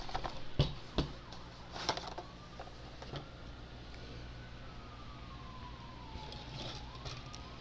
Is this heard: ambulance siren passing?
yes